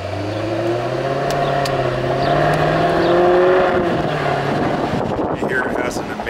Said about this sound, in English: you can hear this beautiful V8 supercharged take off